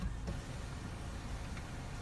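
The electric sunroof blind of a 2017 Nissan Qashqai 1.2 Tekna slides open with a faint, steady motor whir inside the quiet cabin, lasting about two seconds without pause.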